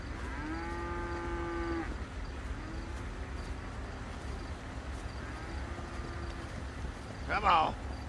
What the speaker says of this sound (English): Where the hell did that cow come from?